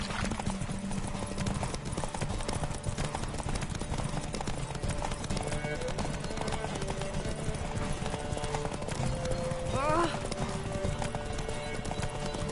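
A horse galloping in The Witcher 3, with rapid rhythmic hoofbeats under game ambience and a brief whinny near the end, close and continuous.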